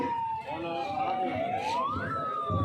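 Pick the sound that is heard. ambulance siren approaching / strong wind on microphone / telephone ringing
ambulance siren approaching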